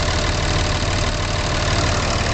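A truck's engine idles steadily right after starting, a loud, even low rumble with a faint knocking texture running unbroken throughout, with no voices over it.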